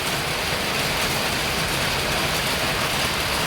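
Heavy rain pours down on open farm fields in a dense, unbroken hiss, loud and close throughout, with no voices.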